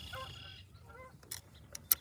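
Geese near a fishing spot on Harsens Island give a few faint, distant honks against quiet background noise, with scattered sharper knocks toward the end.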